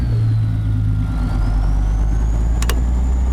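A 500 horsepower truck engine in American Truck Simulator drones close and loud with a deep, steady rumble, and two quick clicks come near the end.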